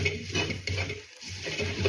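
Fried green chillies and garlic are crushed in oil with a copper pot, giving close, dense grinding and clattering scrapes that run almost without a break, with a brief pause midway and no speech.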